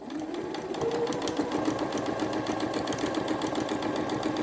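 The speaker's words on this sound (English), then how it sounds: "then we're going to keep sewing" A sewing machine stitches fabric for a face mask, running steadily and close up at an even, continuous hum with no talk over it.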